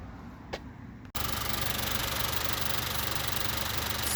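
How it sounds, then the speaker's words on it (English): A 2015 Honda Accord with a cylinder 3 misfire fault cranks and catches after a quiet moment, then settles into a loud, steady idle with a rough, even drone. "So let's start the engine."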